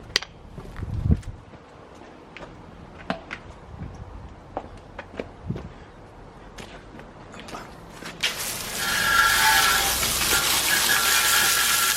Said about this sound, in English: See what it's like when we rinse it off.